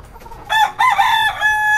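A rooster crows loudly and close by among imported chickens and hens, one drawn-out call broken into rising and held notes, with no talk.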